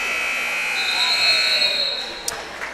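A steady electronic buzzer tone sounds across a high school gym during a girls varsity basketball game, sustained over crowd noise before fading, followed by a couple of faint thumps.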